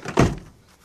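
A 2008 Toyota Tacoma door swings shut with a single solid, close thunk, followed by a brief fading rattle and quiet.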